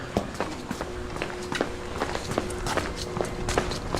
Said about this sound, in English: I think I hear someone coming.